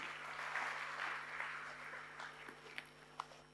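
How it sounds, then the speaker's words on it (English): Faint applause from a small indoor audience swells briefly, then thins out into scattered claps and shuffling. "let's give a big round of applause to our factory"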